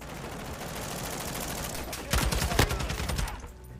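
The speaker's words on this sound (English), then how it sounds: "I'm shooting people fucking twice and they're dead" Rapid automatic gunfire from a gun in Modern Warfare 2, a few tight bursts of close, punchy shots over a steady game background, the loudest cluster near the middle before fading out.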